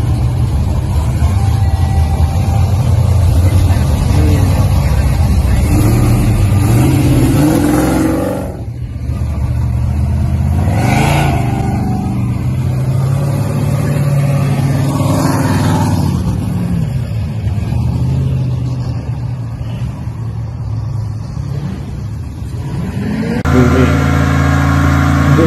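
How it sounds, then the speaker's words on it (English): Chevy donk car engine droning and revving during a night ride, a loud continuous rumble that rises and falls in pitch, close to the listener, with faint voices now and then. "night riding on cleanest Donk Chevy"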